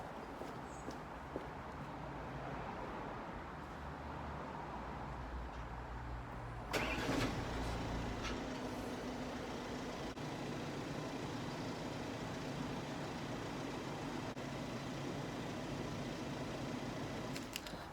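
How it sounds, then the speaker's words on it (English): A 2-litre diesel car engine cranks and fires about a third of the way in, then settles into a steady, low, rumbling idle heard close for the rest of the clip, with no talking. "So I'll start the engine up"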